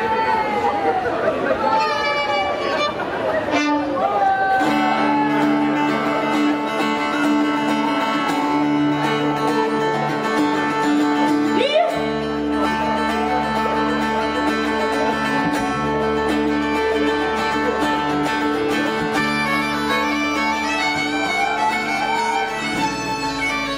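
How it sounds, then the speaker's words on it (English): A Scottish bagpipe band plays a pipe set at the Lorient interceltique festival, with steady droning pipes and melody running throughout, loud and sustained over crowd noise, with drums joining midway. "We're now going to carry on our pipe set."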